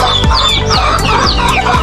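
A backyard hen clucks close by, sharp repeated calls in a quick, steady rhythm of about four a second, loud and alone with no voices.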